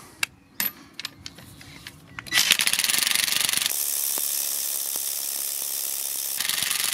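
A Parkside X20V Team 20V cordless impact wrench, rated 400 Nm, tightens at a 150 Nm setting. A few scattered taps come first, then a loud, continuous close-up hammering rattle runs steadily to the end, changing tone partway through.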